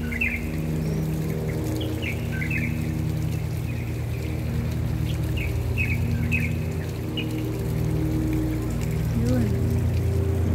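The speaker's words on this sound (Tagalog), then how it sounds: "Ang ganda ng mga tunog ng mga ibon." Birds chirping and squawking in short bursts around a turtle pond in Hong Kong, heard over a loud steady hum of pumps or machinery and trickling water.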